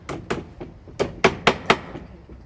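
About seven sharp hammer taps tack a sash window cord into place on a sash and case window, close and crisp, in an uneven rhythm with short pauses.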